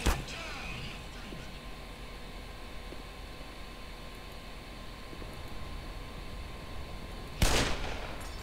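Magnum revolver shots in Black Mesa: one loud crack at the very start and another a few seconds later, separated by low humming background noise.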